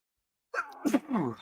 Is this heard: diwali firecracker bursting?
no